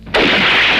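A single loud gunshot fired at close range at a man testing his invulnerability, an abrupt blast that rings out and holds as a dense roar for the rest of the moment.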